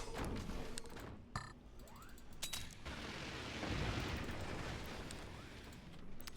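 Mortar fire in the Forts artillery strategy game, with sharp launch thumps early on followed by a long rumbling explosive wash that swells in the middle and lingers to the end.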